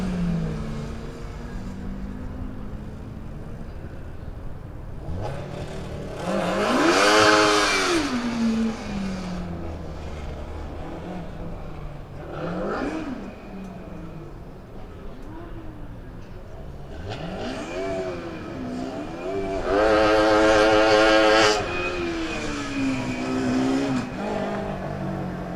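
A Formula Student race car lapping the skidpad at the FSG25 competition, its engine rising and falling through repeated revving surges, with loud peaks as it accelerates around the circles over steady background noise.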